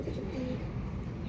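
Soft racing pigeon cooing sounds briefly over a low outdoor rumble, faint and close, during a club training race in Paete, Laguna.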